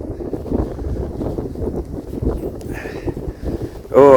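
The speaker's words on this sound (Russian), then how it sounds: "Ох, ну и ветер." Strong gusts buffet the microphone in bursts of low rumble and rattle outdoors at Seliger, with a short whistling tone near the end.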